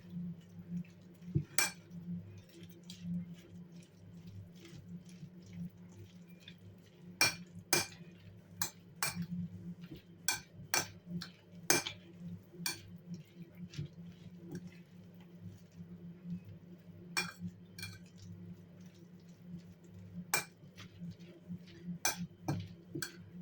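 A spoon stirring Chinese cabbage salad with mayonnaise and black olives in a bowl, with sharp clinks against the dish scattered irregularly over a low hum.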